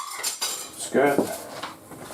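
Spoon scraping and clinking against a pot while sea bass seafood ramen is stirred, a few short metallic knocks and scrapes close by, with a brief harmonic tone in the middle.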